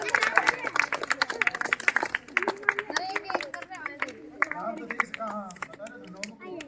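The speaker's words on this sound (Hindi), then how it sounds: "आओ शुरू करो, तालियां बजाओ। शुरुआत ताली से करनी है।" A group of people clap hands in a loose, uneven patter of sharp slaps to start a post office party game, with voices chattering and calling out among the claps.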